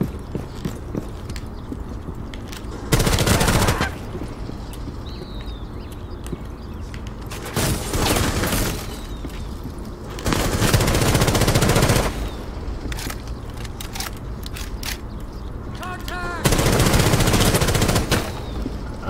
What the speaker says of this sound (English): I'm missing every shot I shoot and I make at this guy.